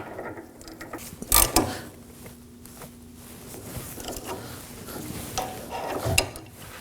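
An inner tie rod removal tool being worked onto the inner tie rod of a 2014-2020 Acura MDX gives a few quiet mechanical clicks and ratcheting clacks, with two sharper clanks standing out close by.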